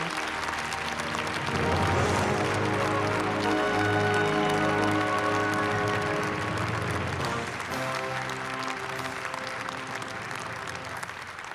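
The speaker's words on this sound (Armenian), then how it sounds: "իհարկե ձեր բուռն ծափահարությունների ներքո" Loud, sustained applause from an audience at a national music awards ceremony, steady clapping that fills the room while music plays underneath, easing off slightly near the end.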